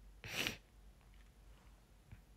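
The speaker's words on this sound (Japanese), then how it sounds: "くしゃみ起きそうくしゃみ" A single sharp sneeze bursts out near the mic, followed by faint sniffling breaths and quiet room noise.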